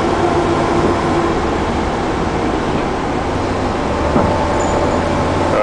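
A Dodge van engine runs steadily while the van drives uphill under light throttle, a continuous broadband rumble and road roar with no gaps and no talk.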